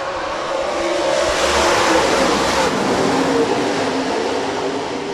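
Modified race cars roar off at the start of a heat race at a dirt speedway, a loud, steady wall of engine noise from the field with no talk.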